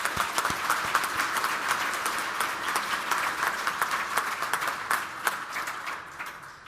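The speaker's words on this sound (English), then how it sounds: "I think Sue should stand up and get a round of applause for the work that she's doing" Audience applause at a senator's news conference, a steady wash of many hands clapping throughout, fairly loud and sustained with sharper individual claps standing out.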